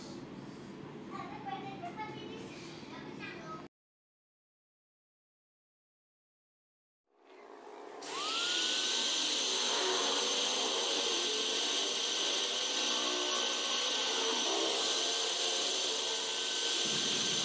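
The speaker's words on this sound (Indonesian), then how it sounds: "Jadi nanti kita lakukan penggerindaan di samping sini, samping sini. Oke, yuk kita gerinda dulu." After brief talk and a pause, a grinder works the side of a Fastace bicycle hub, starting up into a loud, sustained, harsh grinding roar with a high whine that continues to the end.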